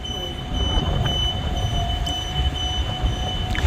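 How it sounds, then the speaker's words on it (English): Transperth train set 82, bound for Ellenbrook, rumbles through East Perth Station with a steady low roar and faint wheel squeal, nearby and continuous. "So we have set 82 now going to Ellenbrook."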